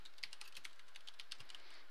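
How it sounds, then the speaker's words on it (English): Someone types on a computer keyboard with quick, light, irregular key clicks, faint and close, with no voices. "I'm not typing well here"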